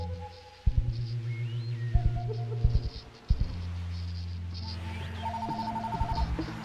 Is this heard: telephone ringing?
yes